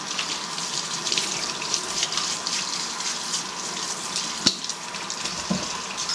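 Water runs and splashes steadily as workshop parts from a tool and cutter grinder used to sharpen drills are rinsed in clean water, with one brief sharp clink partway through and no speech.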